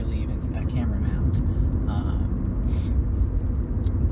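Road bumps thud inside a moving 2003 Honda Accord EX with a 3.0L V6, under a loud steady cabin rumble and tire roar, with a few soft knocks scattered through it.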